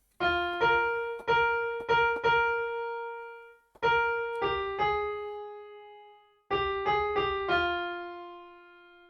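Melody parts of a song played on a keyboard in three short phrases of clear, close, piano-like notes, each phrase a few plucked notes that ring out and fade before a pause.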